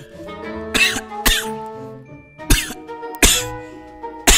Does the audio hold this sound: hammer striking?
no